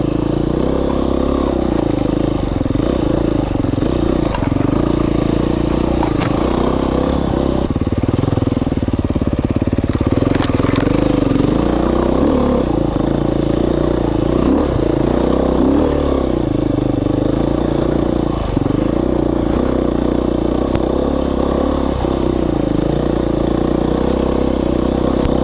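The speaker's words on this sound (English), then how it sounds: "This engine is so good. Suspension is good. I mean, I feel like I'm on a real dirt bike." Dual sport dirt bike engine running steadily throughout a singletrack trail ride in Idaho, a loud continuous drone with shifting revs and occasional clatter from the trail, no talk.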